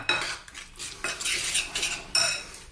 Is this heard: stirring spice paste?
yes